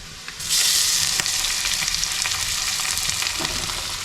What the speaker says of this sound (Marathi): आता लसूण लाल झाली आहे, आता त्याच्यामध्ये आलं टाकते.